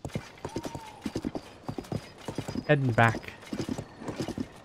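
A horse gallops in The Legend of Zelda: Tears of the Kingdom, its hooves making a rapid, even clip-clop with a brief neigh in the middle, while a player talks over it.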